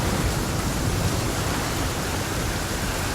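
Steady rain in the survival video game The Flame in the Flood, a dense, even wash of noise that holds at a constant level throughout, with no voices over it.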